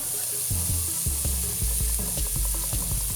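Chopped onion and poblano pepper sautéing in vegan butter in a pan, giving a steady close sizzle with soft crackling pops and stirring scrapes throughout.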